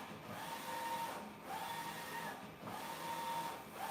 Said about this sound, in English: Now printing.